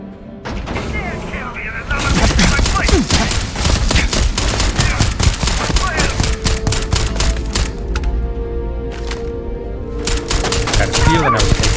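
Rapid gunfire in the video game Starfield, dense bursts of sharp, loud shots cracking almost without pause, with a brief lull before more firing, with faint voices mixed in.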